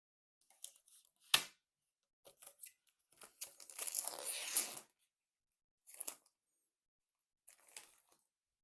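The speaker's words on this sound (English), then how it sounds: "Let's cut that plastic off of it and get a better look at the colors" Plastic wrap is cut and peeled off a Santa Cruz reissue skateboard deck with a light wood top, giving several short bursts of tearing and crinkling separated by pauses, close and fairly quiet.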